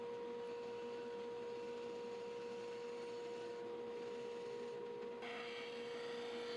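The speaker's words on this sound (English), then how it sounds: "Take it over to the bandsaw, get it close." A bandsaw cuts a curve in a wooden piece for a queen Murphy bed template. A steady, fairly quiet motor hum with a fixed pitched whine runs throughout, and the texture shifts near the end.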